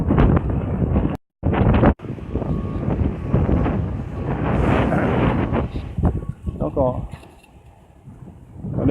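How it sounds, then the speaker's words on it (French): Strong gusts buffet the microphone during an EF2 tornado storm in Hull, a loud continuous roar of wind with rumbling low-end pressure, a brief dropout early on, and people talking intermittently over it. "il y a pas que le vent il devient assez fort"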